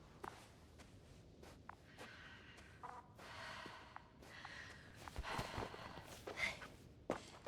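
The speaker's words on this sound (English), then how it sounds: "She's panting all the time." A female character in The Invincible, a sci-fi game, panting and breathing heavily from low stamina, with soft gasps and sighs mixed with footsteps, fairly quiet and close, no talk over it.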